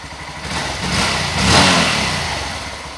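A Honda Grom 125cc motorcycle engine revs up and back down in one fairly close rise of throttle, steady mid-pitched engine noise throughout with no talking.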